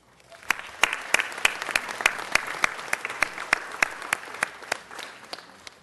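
A room of people at a city council meeting claps for national champions, a few distinct hands giving sharp, evenly spaced claps close by over a softer spread of applause, with no voices heard.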